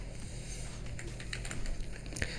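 Quick, light taps on a computer keyboard, a close, soft patter of keystrokes with a few sharper clicks near the end, heard alone without talk.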